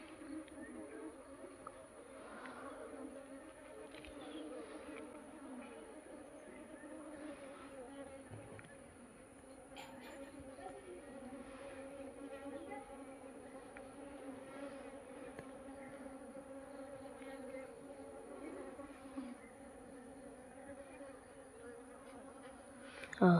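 Bees from a divided honeybee colony swarm around an opened hive box holding fresh brood, giving a steady, close, dense buzz that continues throughout, with a voice occasionally in the background.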